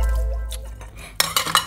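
Plates and cutlery clatter and clink in quick, close bursts as dishes are washed, with a low rumble and running water underneath and no voices.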